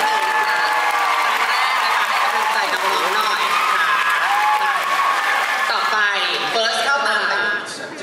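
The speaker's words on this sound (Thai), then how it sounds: "ขอเสียงปรบมือให้น้องๆกันค่ะ" Audience at the opening-night event for the series Moonlight Chicken bursts into steady, dense applause with cheering and scattered voices, loud and sustained throughout before easing slightly at the very end.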